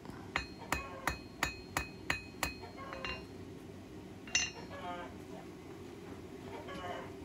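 Blacksmith's hammer forging and flaring the tip of a steel hook: seven evenly spaced ringing metallic strikes, then a few scattered lighter taps and clinks over a low background hum.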